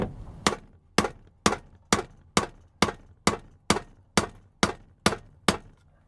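A hammer strikes a wood block set on the piston of a four-stroke bike engine: thirteen sharp, evenly spaced knocks about half a second apart, close and loud, each with a short decay.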